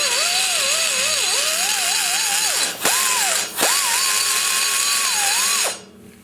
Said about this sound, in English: I'm keeping the cutter at a slow to medium speed with not much pressure on the trigger here.